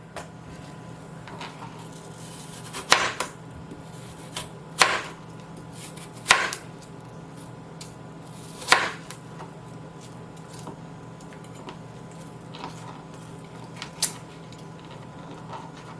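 A knife cuts apples and carrots into matchstick strips on a cutting board for an apple, carrot and kale salad. About five sharp, separate chops land at uneven intervals over a quiet background, with no talking.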